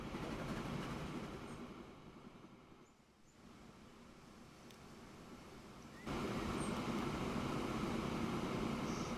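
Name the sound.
train running in a video game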